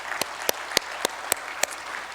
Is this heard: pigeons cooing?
no